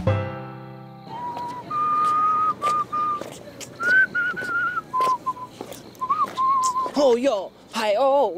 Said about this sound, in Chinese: 晚上不要吹口哨啦！